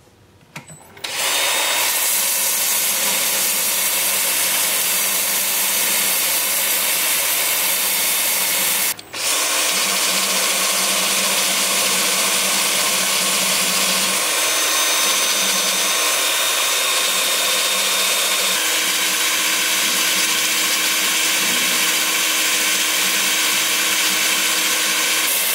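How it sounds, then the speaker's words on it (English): Ginkgo biloba wood salt cellar spinning on a lathe while being sanded with 150 grit paper, a loud, steady motor whine and abrasive hiss running continuously, with a brief dip partway through. "So I need to sand this."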